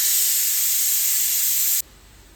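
A pressure cooker whistle on a kitchen stove gives one loud, steady hiss of escaping steam that holds for nearly two seconds, then cuts off suddenly, leaving a quiet room.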